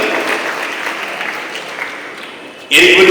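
An audience at an awards gathering for high achievers in Muvattupuzha claps for the parents of prize winners, a loud burst of applause erupting suddenly after a stretch of quieter room noise and a voice over a speaker system.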